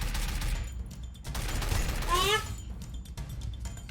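Burst of gunfire in the battle-royale video game Free Fire, a short rattling volley over a steady game background with a brief creaking mechanical sweep in the middle, moderately loud and close.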